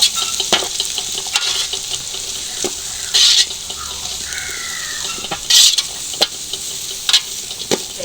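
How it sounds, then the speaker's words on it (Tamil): Whole spices, cinnamon among them, fry in oil in a pan for a Jaffna-style chicken noodle dish: a steady close sizzle broken by sharp spoon-on-pan scrapes and clinks as they are stirred. "கொஞ்சம் பொரிக்க போறோம்."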